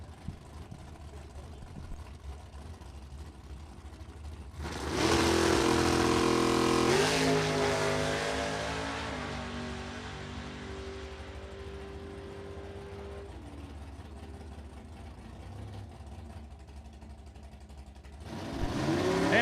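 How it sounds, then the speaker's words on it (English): A rear-engine dragster on a drag-racing license run roars loudly as it launches, its engine note holding high before fading into the distance, then another engine surges up near the end. "rear engine dragster"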